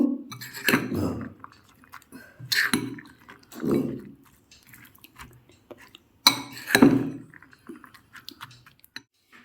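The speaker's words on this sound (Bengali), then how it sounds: "তো এবার হচ্ছে আমি ভালো করে এটা মিশিয়ে নেব।" A spoon works through a creamy protein salad in a bowl, making soft wet squelches and occasional clinks in three or four separate strokes, with quiet pauses between them.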